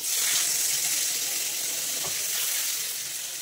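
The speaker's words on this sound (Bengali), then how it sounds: "এবার দিয়ে দেবো জল" Water poured into a hot frying pan of cooking leafy greens sets off a steady, loud hiss and sizzle that holds for the whole moment, close by and without talk.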